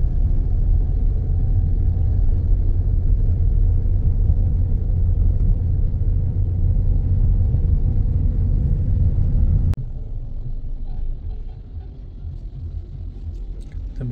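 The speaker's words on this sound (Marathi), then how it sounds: "पूर्ण ट्रॅफिक जाम झालेलं आहे राजमाची पॉईंटपर्यंत" Heavy, jammed road traffic on the route near Rajmachi Point, a loud continuous engine rumble heard from inside a vehicle that drops abruptly to a quieter, thinner hum partway through.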